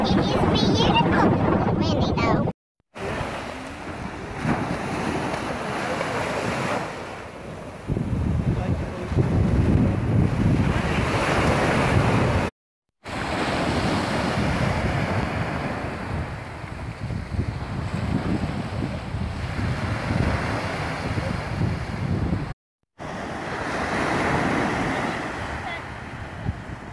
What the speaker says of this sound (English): I'm at the ocean. I'm here in Monterey.